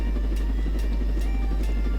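A helicopter in the video game Jailbreak drones loudly and steadily, its heavy low rotor hum pulsing with rhythmic blade chops about every 0.4 seconds, close and continuous with no talk.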